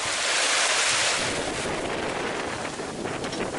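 Steady wind and rushing ocean waves around a sailboat with twin headsails crossing the Atlantic from the Canaries toward Cape Verde in light winds, a continuous broad wash that fills the whole stretch, close and loud, with no talking.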